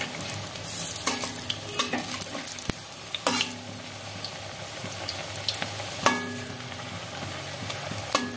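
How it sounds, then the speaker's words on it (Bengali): Onion fritters (peyaji) frying in hot oil in a home kitchen, a steady close sizzle with occasional scraping stirs and clinks of a spatula, no talking. "এভাবে এরকম লাল করে সুন্দর করে একটু ভেজে নিতে হবে।"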